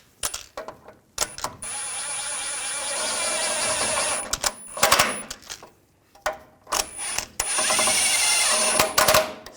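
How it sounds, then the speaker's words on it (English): Bolts being run down and snugged on a 4WD actuator of a 2014-2018 GMC Sierra 1500 5.3L V8, close-up bursts of ratcheting and whirring tool noise separated by short pauses, with no talking. "I'm going to tighten these down."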